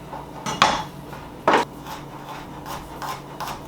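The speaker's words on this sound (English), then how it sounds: "I like to just chop the little ends of these, those little guys." Knife striking a cutting board as the little ends are chopped off garlic cloves: two sharp, distinct chops close up, followed by a few lighter taps.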